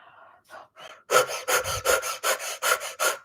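Forceful rhythmic breaths through the mouth during a dynamic meditation, a run of about eight sharp, evenly spaced puffs after a few softer opening breaths, close and loud.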